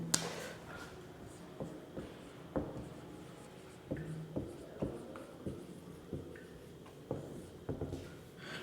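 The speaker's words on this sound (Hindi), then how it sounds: "ये ऊपर में मैं लिख देता हूँ ट्रिगोनोमेट्री" Chalk or marker writing on a classroom board during a trigonometry lesson, a faint, close series of short scratchy strokes and taps with quiet pauses, no talk over it.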